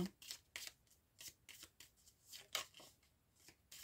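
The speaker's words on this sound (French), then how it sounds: "je vais tirer cette carte" Playing cards are shuffled and handled in a series of crisp riffling bursts, about a dozen quick papery flicks spaced through the span, close and fairly quiet with no talking over them.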